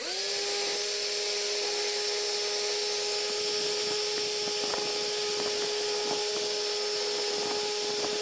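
A power drill whines steadily and continuously, close and loud, with a constant high-pitched tone and occasional grinding ticks as it bores into old computer parts.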